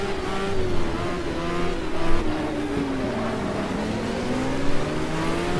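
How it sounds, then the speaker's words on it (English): A Porsche 956 or 962 race car in GTR2 at Motegi holds a loud, continuous engine drone, its pitch sliding up and down as it accelerates and shifts through gears. "In front of us there is a Porsche 956 or 962."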